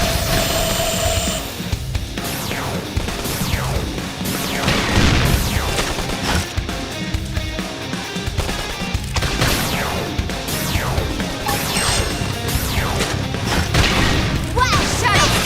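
Dense run of crashing, booming energy blasts in Xenoblade Chronicles X during a beam barrage attack, loud and continuous for the whole stretch with layered impacts, sweeping effects and combat voice callouts mixed in.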